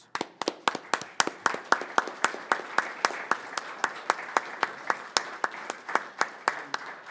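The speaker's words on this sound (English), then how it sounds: "all the women in our lives deserve a big round of applause" A single pair of hands claps at a steady, even rhythm in a city council chamber, sharp distinct slaps spaced about a third of a second apart, close and clear with little else behind them.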